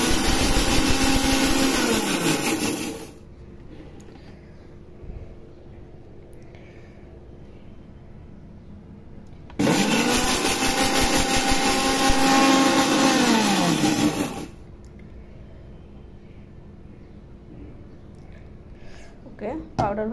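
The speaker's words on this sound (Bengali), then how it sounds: "এই যে জিরাটা এখন পাউডার করে নিব ছোট্ট ব্লেন্ডারে।" A small blender grinding roasted cumin into powder runs in two loud, close bursts of about three and five seconds each, with a high whine that drops in pitch as each burst winds down, separated by quieter stretches.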